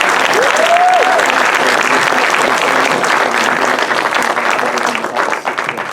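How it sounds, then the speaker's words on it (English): An audience at a labor film festival screening in Santa Cruz gives a loud, dense round of applause that rolls on steadily, a brief whoop rising early, then thins and tapers off at the end. "Big round of applause, please"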